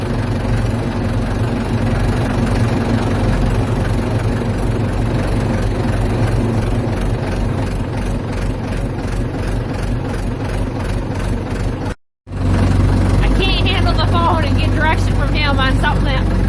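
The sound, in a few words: Ford 755 backhoe engine running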